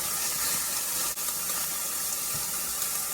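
Green beans glazing in a hot pan, stirred as they dry out, giving a steady loud hiss of sizzling with a brief scrape partway through, no voices.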